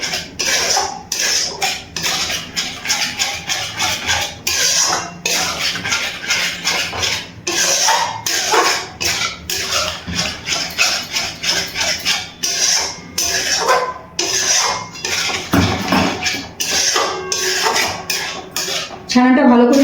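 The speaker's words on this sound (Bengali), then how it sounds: "সম্পূর্ণ ছানাটা দিয়ে দিয়েছি। এবার ভালো করে মিশিয়ে নিচ্ছি।" Freshly curdled chhana cheese mixed and stirred in a metal pan, with steady scraping and clinking of a spoon against the pan, close and fairly loud in rapid repeated strokes.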